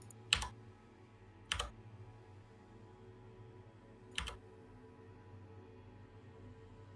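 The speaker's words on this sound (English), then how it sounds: "you click the delete button on your keyboard" Three isolated, sharp key clicks on a computer keyboard, spaced a second or more apart, sound faint against a low room hum with no talking.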